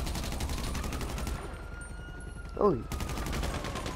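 Rapid automatic gunfire in GTA 5, a fast even rattle of shots at moderate loudness that stops briefly partway, with a short spoken exclamation over it.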